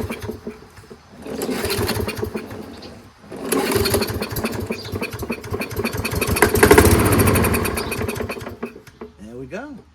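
Toro 22-inch Recycler lawn mower with a Kohler engine and replacement carburetor, running after an ether start: a loud, close, steady small-engine drone that swells midway and cuts out near the end, with a voice talking over it.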